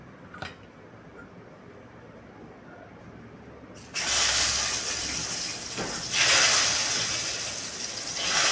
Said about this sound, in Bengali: বেগুনগুলো ভেজে নিই